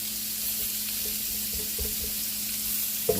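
Salmon fillet sizzling in a hot pan with onion, a steady close frying hiss throughout, with a brief scrape or clatter near the end.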